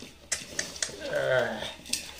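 Mango pickle pieces coated in mustard powder being mixed by hand in a vessel for Andhra avakai, with clinks and scraping knocks against the container and a person talking under the clatter.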